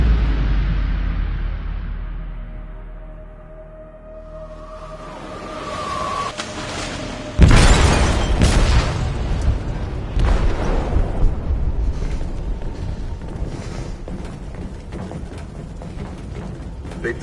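A video game explosive detonates in a ship's hold: a low rumble builds, then a sudden loud blast followed by sustained crashing, rumbling debris and metallic clatter.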